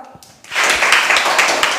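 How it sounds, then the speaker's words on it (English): A group of people clap together in a steady burst of applause that begins abruptly and holds at an even, fairly loud level until the end, with no voices over it. "Let's clap for her."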